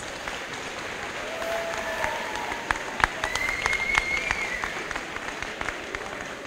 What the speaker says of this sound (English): give a big round of applause for Loveland Schools.